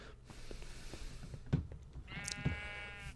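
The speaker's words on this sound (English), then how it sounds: "Sheep are still here." Sheep in the Minecraft video game bleat a couple of times, short nasal calls over a quiet in-game background, with a soft ambient hum and no talking.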